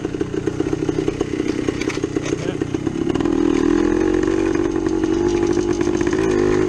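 A 1972 Yamaha DT2 trail bike engine runs steadily close by on a trail ride, its loud buzzing two-stroke note holding an even pitch before rising and thickening as the throttle opens partway through.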